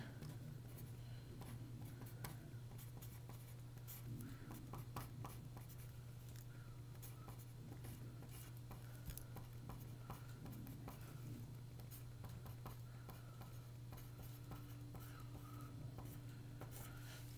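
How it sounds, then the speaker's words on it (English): Pen or marker steadily writing out a calculus solution, soft continuous scratching and tapping strokes over a low steady hum, faint and close throughout. "So we'll write that right down here."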